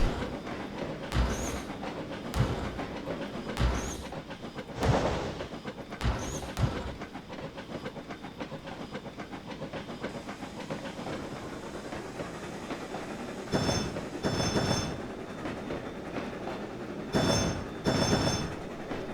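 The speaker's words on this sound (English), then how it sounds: "Really quiet chuff sounds." Rhythmic train running sounds from a 4-6-0 steam locomotive in Trainz 2022, with bursts of soft chuffing and hissing out of sync, several spaced puffs against a steady rolling background, fairly quiet and mechanical.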